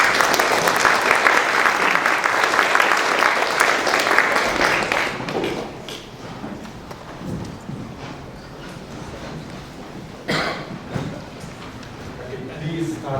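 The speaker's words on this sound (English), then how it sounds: "Let's have a big round of applause." Conference audience applause swells loud and dense for about five seconds, then thins into scattered claps and room noise as a voice speaks faintly.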